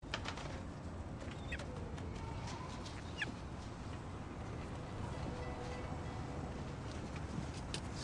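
A pet bird with molting white feathers gives a few faint, scattered clucking calls, set against steady, noisy indoor background hiss, with no talking.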